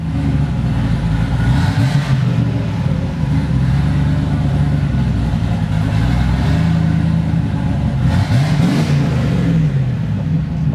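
A Volvo sleeper with a freshly swapped manual transmission idles steadily as its engine warms up, a continuous mid-pitched rumble with occasional slight rises in revs, close and loud with no talk.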